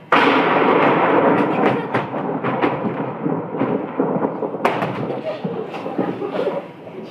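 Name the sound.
thunder during a thunderstorm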